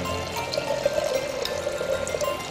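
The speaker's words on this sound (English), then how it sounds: "going to fill it up with also 800 cc's of ozonated water from this amazing machine" Ozonated water, 800 cc, poured from an ozone machine into a beaker, a steady close splashing rush that runs without a break and with no talk.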